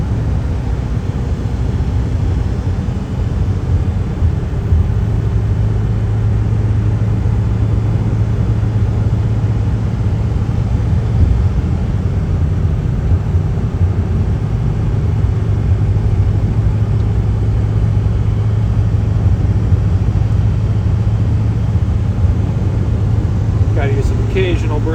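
A vehicle engine straining at high revs, near 4,000 RPM, while held in fourth gear on a 6% grade. It makes a steady, loud, continuous drone with low rumble throughout.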